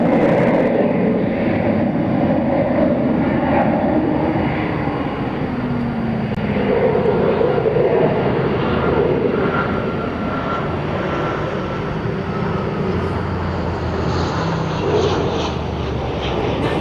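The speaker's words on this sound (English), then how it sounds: "That's a plane which goes nightly to Cincinnati from here." An ABX Air cargo jet, a 32-year-old plane, rumbles its engines on a taxiway at DFW Airport at night: a steady, broad roar holding throughout with no voices over it.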